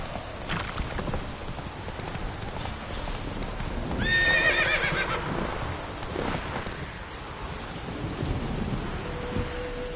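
Roach the horse in a video game whinnies once clearly in the middle while hooves clop steadily through falling rain, with low rumbling in the background; no speech.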